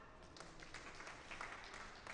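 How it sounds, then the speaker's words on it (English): Quiet, distant applause from spectators at a singles championship awards ceremony, a soft continuous patter of clapping with no talk. "Give those a clap."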